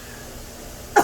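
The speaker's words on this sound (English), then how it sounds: "Sorry, just clear my throat." A woman briefly clears her throat, a single short burst at the very end after near silence.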